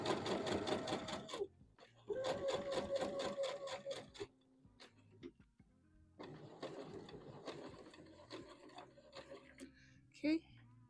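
A sewing machine stitches a seam on a Vogue V2000 DVF wrap dress in several loud, rapid runs of mechanical chatter, separated by pauses and short stops as the bobbin runs out, with a voice talking between bursts.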